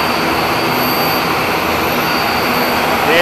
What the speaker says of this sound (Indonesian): ini dia pesawat kita ke Ambon.